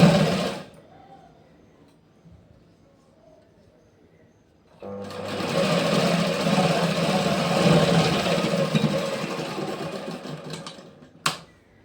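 A sewing machine stitching the side seam of a blouse runs in one loud, steady burst of rapid stitching after a quiet pause, then stops with a short clack.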